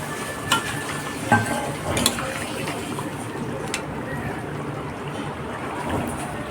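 Fried taro kofta balls drop into simmering gravy with a few soft splashing plops early on, then a low, steady bubbling and stirring wash continues close by.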